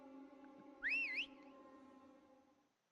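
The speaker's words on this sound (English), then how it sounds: "The person whistles through their fingers" A single finger whistle in the 7'Scarlet video game rises and warbles for about half a second over a steady low musical hum.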